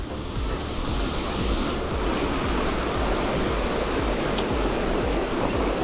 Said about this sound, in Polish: Jest to największy wodospad naturalny na Jurze.